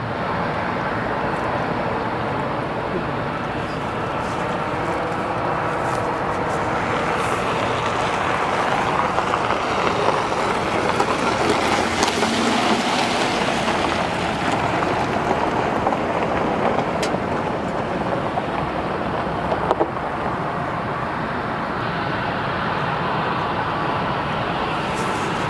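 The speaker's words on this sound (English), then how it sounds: "we have a United departure from Chicago O'Hare International Airport" A United airliner departs Chicago O'Hare International Airport, its jet engines giving a steady broad roar that swells toward the middle as it passes and then slowly fades, heard from a distance outdoors with no talking.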